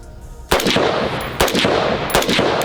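Rifle gunfire at a shooting range, three loud close bursts of rapid shots about a second apart, each ringing briefly after.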